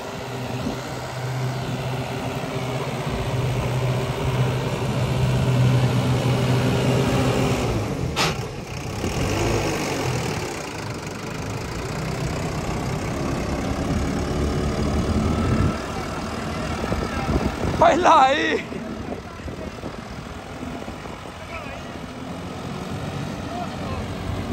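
A Guard World WD754 tractor engine hums steadily and low while driving a 90 rotavator through a wet field, a constant drone with a few brief louder bumps near the end.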